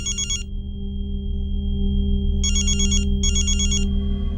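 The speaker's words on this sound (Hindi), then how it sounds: "देखो तो मनोज का फोन है क्या?" A telephone rings in a room with an electronic trilling ring: one short burst, a pause with a steady tone, then two more bursts, all loud over a constant low hum.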